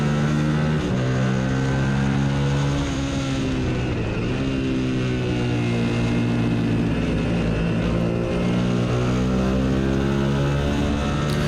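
Race car engine at Gingerman during an ASRA race, held near redline in a loud, continuous high-revving drone whose pitch dips briefly and then climbs again.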